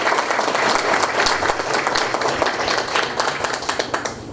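An audience at a shopping-centre event in Cerro Largo applauds the 2014 candidates for deputy, with brisk, dense clapping from a fairly close crowd that keeps up for several seconds.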